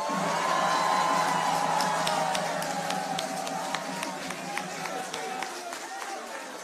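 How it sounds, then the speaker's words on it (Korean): Crowd at a Busan party New Year gathering gives a long, steady round of applause and cheering for Han Dong-hoon, a dense sustained wash of clapping with whoops, heard at a distance and fading slightly toward the end. "국민의힘의 4번 타자 한동훈 비상대책위원장님께 다시 한번 큰 박수 부탁드립니다"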